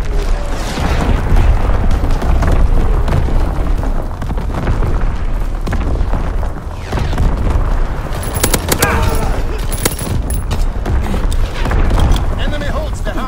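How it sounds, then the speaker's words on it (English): Enemy artillery shells explode in a video game battle, dense booming blasts mixed with rapid gunfire in a loud, continuous din, with faint voices in the background. "Incoming enemy artillery."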